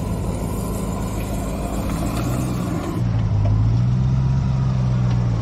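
A Hennessey Mammoth truck with a 1,026-horsepower engine crawling gently off-road, a steady low engine drone that deepens into a stronger rumble partway through, close and continuous.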